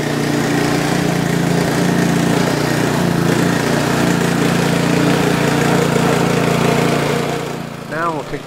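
A DR Power Wagon motorized wagon engine runs steadily at a loud, even drone while turning on a side hill, then drops off and fades near the end.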